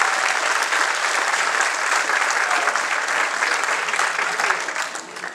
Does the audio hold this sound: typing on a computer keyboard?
no